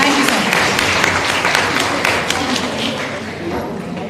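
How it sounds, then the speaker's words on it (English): Applause from an audience at an education conference session, a dense continuous wash of clapping that fills the hall steadily and stays loud throughout, with no one speaking over it. "Can we have a huge round of applause for all of them?"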